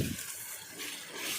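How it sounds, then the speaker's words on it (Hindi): Tap water runs steadily into a container in a home kitchen, a soft continuous hiss and trickle after a brief low knock at the start, fairly faint and heard alone. "दक्ष आ गया है पानी भरने के लिए।"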